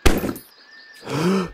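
A single sharp gunshot from a deer hunting video game cracks out close and loud, then fades, followed by a short hollow scraping thud.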